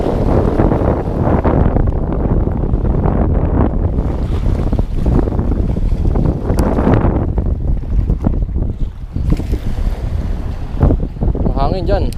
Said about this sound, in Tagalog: Mahangin dyan.